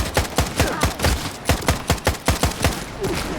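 Rapid gunfire in the video game Stalker 2 while shooting bandits, a quick string of about a dozen sharp shots in an uneven burst rhythm, loud and close, with no talk.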